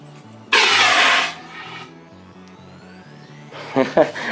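A sharp, loud blast of gas bursts from a nozzle releasing dry ice and hisses for about a second. Then a steady low pulsing drone continues, followed by another brief hiss.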